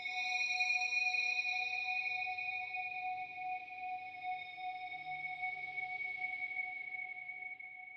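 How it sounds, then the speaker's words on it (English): Guitar amp feedback from pickups held close to the speaker rings as a sustained, steady high-pitched tone with a couple of layered pitches, slowly fading slightly over several seconds. "I created this feedback using my guitar amp"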